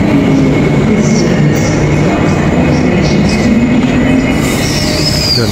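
A Fremantle-bound train at a Perth station rumbles loudly and continuously close by, with rail noise and a faint squeal of wheels near the end.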